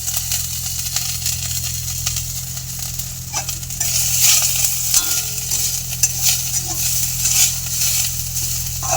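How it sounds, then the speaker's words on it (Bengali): Panch phoron, bay leaf, dried red chilli and grated ginger temper in hot oil, crackling in a continuous sizzle with occasional stirring knocks over a low steady hum. The sizzle grows louder partway through, and nobody speaks. "পাঁচ ফোড়ন তেজপাতা এবং শুকনো লঙ্কা দিয়ে আমি ফোড়ন দেব"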